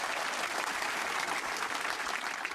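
An audience applauds after a French-language political speech, steady dense clapping holding at an even level throughout with no pauses, loud and close, filling the whole moment without any voices.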